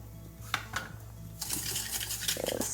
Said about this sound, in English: I'm adding half of my sugar in it now and giving it a good mix with the whisker